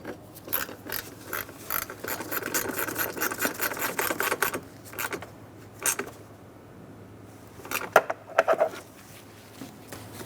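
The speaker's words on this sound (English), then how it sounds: "Snug the bolt down." A ratchet clicks rapidly as a bolt on the coolant reservoir of a 2003-2007 Honda Accord V6 3.0L is snugged down. A long run of close ticking is followed by a few sharper clicks and clanks, with no talking.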